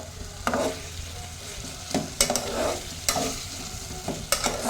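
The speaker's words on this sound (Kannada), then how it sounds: "ಹಾಕಿ 1 ನಿಮಿಷ ಚೆಂದಾಗಿ ತಿರುಗಬೇಕು" Tomatoes are stirred in a frying pan for village-style chicken sambar: a steady sizzle of frying, with a spoon scraping the pan in sharp, irregular strokes every second or so, close and fairly loud.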